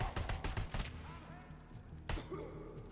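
Sniper gunfire in the video game RoboCop: Rogue City, sharp shots in a quick burst at the start and another crack near the end, with a voice talking over the game sounds.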